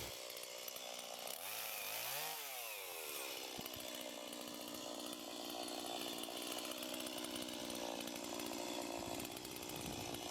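A chainsaw cuts through a thick branch for firewood, running as a loud, steady buzz with a rising and falling whine as it bites in near the start, then a rough, sustained cutting drone to the end.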